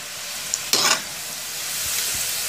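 Mini samosas slipped into hot oil give a brief burst of bubbling, then settle into a soft, even sizzle with a couple of faint clicks, no talking.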